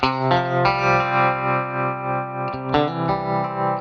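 Mellow deluxe-style amp preset on an Ampero II guitar processor, with clean electric guitar chords ringing under chorus-like modulation and light echo, strummed in a few loud, sustained hits without talk.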